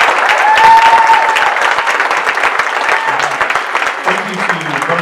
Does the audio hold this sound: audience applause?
yes